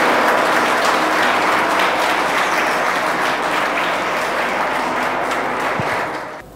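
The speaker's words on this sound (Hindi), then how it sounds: "प्लीज़ जोरदार तालियाँ" An audience at a Hindi-language UPSC exam seminar claps loudly and steadily in a dense burst of applause that stays strong, then drops away at the end with no talk.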